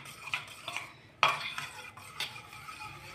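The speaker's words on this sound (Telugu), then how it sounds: "హనీ వేస్తున్నాను. బాగా మిక్స్ చేసుకోవాలి." Honey is stirred into a melted rose petal soap mixture, with a spoon scraping and clinking against the bowl in a few separate strokes and one sharp knock partway through, close and fairly quiet.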